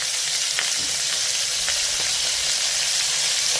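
Squid fries in a hot pan with cooking wine added, giving a loud, steady sizzle and hiss throughout with faint scraping stirs mixed in.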